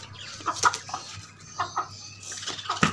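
Several chickens cluck in short, irregular bursts close by, with brief pauses between calls over a quiet background, in a backyard in Multan, Pakistan.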